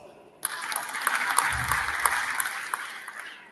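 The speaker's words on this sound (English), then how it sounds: "Big round of applause." Workshop audience breaks into applause after a brief quiet moment, a full sustained round of clapping with scattered louder claps and faint voices mixed in.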